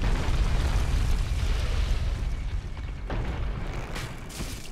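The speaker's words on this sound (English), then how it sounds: "Are they gonna keep throwing rocks at me?" Rocks thrown by enemies in Sen's Fortress in Dark Souls, loud crashing rumble throughout with a couple of sharper impacts near the end, no voices.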